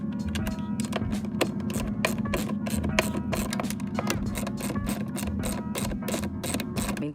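Bolts on a Sea-Doo boarding ladder for a 2021 Sea-Doo RXP-X 300 being tightened with a ratcheting tool, a rapid steady clicking over a low hum, close and moderate.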